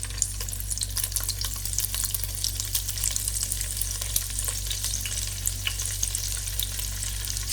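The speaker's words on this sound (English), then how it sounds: "On a low flame, I'm going to shallow fry my paneer cubes." Cubes of paneer shallow fry over a low flame, sizzling steadily in a shallow pan of oil, a constant crackling hiss with scattered pops and a low hum beneath.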